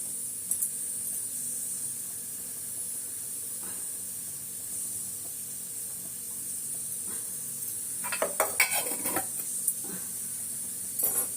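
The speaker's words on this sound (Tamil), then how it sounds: "நம்ம குழம்பு தாளிச்சிடலாம் கட கட கடன்னு" Spices are tempered in hot oil for an egg curry kuzhambu, giving a faint, steady hiss that flares into louder bursts of sizzling and spattering near the end.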